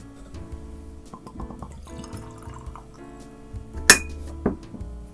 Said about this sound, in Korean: 이렇게 한 잔 따라줬고요.